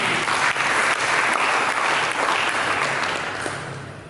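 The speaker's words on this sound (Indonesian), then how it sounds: "Berikan tepuk tangan." A congregation at a church service breaks into loud, dense applause that stays full for about three seconds before easing off slightly at the end.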